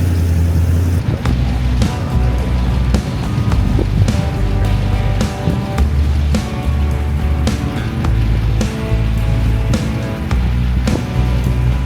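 A hot rod drives over an old brick road, its engine a steady low rumble mixed with continuous rattling, bumping and wind noise, close and loud throughout.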